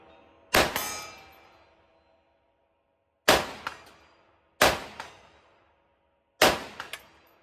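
Four sharp gunshots fired at targets, spaced a second or more apart, each a loud crack followed by a short ringing clang of hit metal, with no talk.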